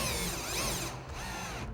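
Power drill driving screws into a plastic solar shield, a steady broadband whir running continuously and close through the short stretch with no talk.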